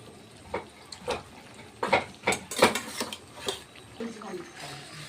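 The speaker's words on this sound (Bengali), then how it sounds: "এবার মাংসগুলো দিয়ে দিই।" Pieces of chicken meat drop into a cooking pot by hand, making a cluster of soft thuds and wet sizzling bursts with metal clinks, fairly close and moderately loud.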